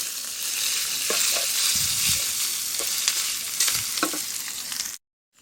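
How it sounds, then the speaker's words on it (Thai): Boiled pork is stir-fried in fragrant fried-garlic oil for Thai sweet pork, with a loud, close sizzle and repeated scraping stirs of a spatula in the pan before the sound cuts off abruptly near the end. "ใส่นี่หมูที่เราต้ม ลงไป ก่อน ใส่ลงไป ไปผัด ให้เข้ากับน้ำมัน"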